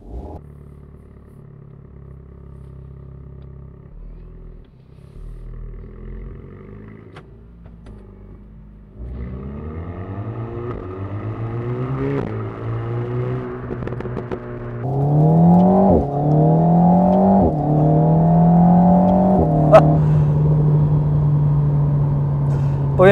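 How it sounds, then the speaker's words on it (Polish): An Alpine A110 sports car accelerates hard in sport mode, its engine note climbing through several rising pulls broken by gear changes, growing louder and more insistent toward the end, heard from inside the cabin. "w tym trybie sportowym przyspieszenie jest tak gwałtowne, że w zasadzie nie można się tego spodziewać"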